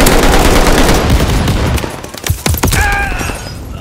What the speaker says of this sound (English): These shotguns are good.